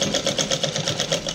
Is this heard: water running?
no